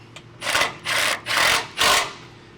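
A ratchet with a 10mm socket tightens a bracket bolt holding a brake line during a 6-inch lift kit install on a 2021 Ford F150, giving four distinct bursts of raspy clicking, close and loud, with short gaps between strokes.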